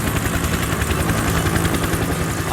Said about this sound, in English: The chopper descends to pick them up.